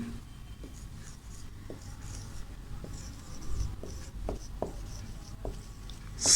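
Marker or chalk writing on a board during an English class, with faint scratchy strokes and a few sharp taps spread over a quiet room, close and fairly soft with no talk.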